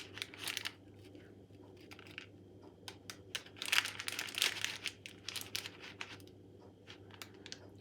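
A knife cuts through a jam and coconut sponge cake, giving soft crumbly crinkling and crunching scrapes in short irregular bursts over a low steady hum, close and faint, with no talking.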